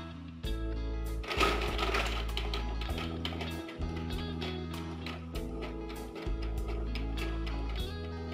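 A printer runs mechanically as it prints a wedding invitation, giving a quiet, continuous hum broken by rhythmic stops and restarts as the print head moves.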